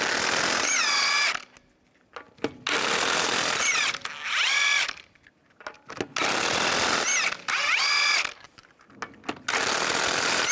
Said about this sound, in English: Now we're going to remove the wheel, use a 19mm socket,